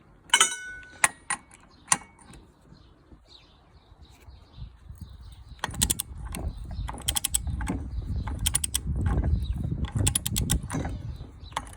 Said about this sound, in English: Tighten up the vise a bit.